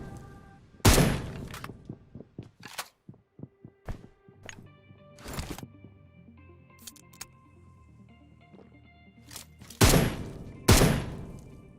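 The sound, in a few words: gunfire in the video game PUBG Mobile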